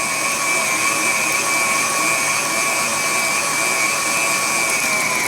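An electric meat grinder churns pork loin for sausage, a loud, steady motor whine with a constant high-pitched hum, running close and unbroken with no talk.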